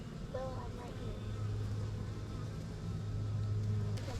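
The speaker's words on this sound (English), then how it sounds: "That hive sounds a little bit loud" Upset bees buzzing loudly in a hive, a steady dense drone that holds through the whole stretch without pause.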